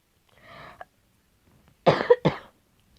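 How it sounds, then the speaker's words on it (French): A woman coughs in two sharp, close bursts after a quieter throaty sound, with silence between. "Désolée, j'ai la toux."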